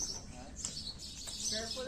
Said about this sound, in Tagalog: May resident birds sila.